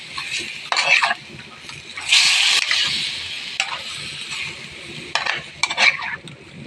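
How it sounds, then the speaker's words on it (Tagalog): Squid adobo stirred in a pan: a utensil scrapes and clanks against the metal in separate strokes over a soft, low sizzle. "haluin natin ang ating pusit"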